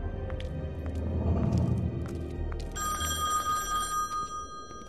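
An old office telephone rings in The Wolf Among Us game, a faint repeating bell tone over quiet background ambience and footsteps-like thumps.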